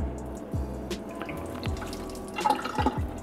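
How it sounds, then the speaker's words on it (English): Hot water drains off soaking blueberries into a kitchen sink, giving a steady close trickle with a few drips and splashes that grow louder toward the end. "now I'm just gonna drain out this water"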